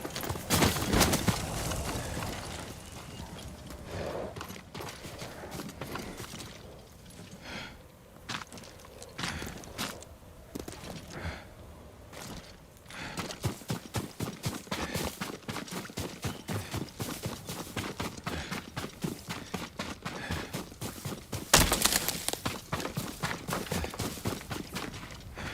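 A horse's hooves thud and clop at an uneven walking pace in Ghost of Tsushima, near and moderately loud, with a burst of faster footfalls later amid rustling ambience.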